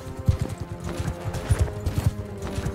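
Horse hooves pound in a rapid gallop during a mounted chase in the video game Mount & Blade 2: Bannerlord, a steady rhythmic clip-clop of loud, close thuds with faint battle noise behind.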